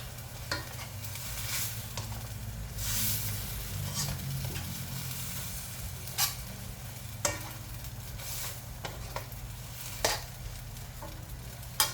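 Pork belly, egg and glass noodles are stir-fried in a pan, a constant sizzle broken by scattered sharp clacks and scrapes of the spatula, close and without speech.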